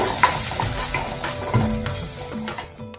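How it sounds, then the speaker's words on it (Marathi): Cumin, crushed green chilli and garlic stirred together in a pan for a drumstick-leaf paratha produce soft scraping strokes and light clinks over a faint, low sizzle. "एकत्र करून घ्या"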